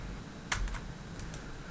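A few light computer clicks, one sharper click followed by softer taps, close and isolated over a steady background hum.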